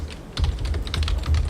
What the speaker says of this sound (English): Okay, so I always start with typing